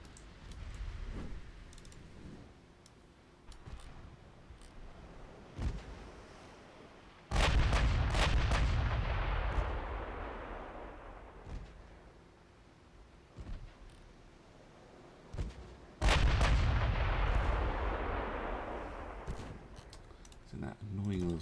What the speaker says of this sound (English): Those 5-inch guns are nasty.